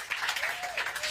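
Applause from a crowd at a political event with Speaker of the House Mike Johnson at the Superior Restaurant in Pennsylvania: a dense, steady wash of clapping filling the brief moment, with no talk over it.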